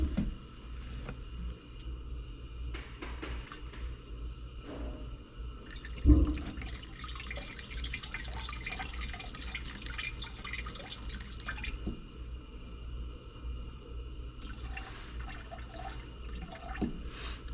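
Biodiesel pours into a jug as a steady trickling, splashing stream that swells noticeably in the middle, with scattered drips and a low background hum, close and continuous with no talk.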